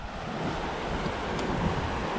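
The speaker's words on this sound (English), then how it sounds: "I found the river" A swollen river flows in the backcountry, running at about twice its usual level, a steady broadband roar of rushing water mixed with wind buffeting the microphone, with no one talking.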